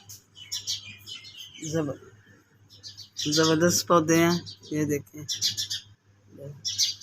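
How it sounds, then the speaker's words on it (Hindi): Small birds chirp and tweet in quick, bright bursts in the early morning before sunrise, near a plant-filled balcony gallery, heard under and between someone talking. "और सुबह सुबह चिड़िया जो है वो भी बोल रही हैं।"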